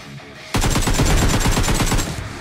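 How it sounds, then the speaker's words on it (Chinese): A grenade launcher in a shooter video game fires a rapid burst of booming shots after a brief quiet lead-in, the loud evenly spaced blasts running together for about two seconds. "我不做迟疑，抢先轰出几发榴弹，以期打乱他们的进攻节奏"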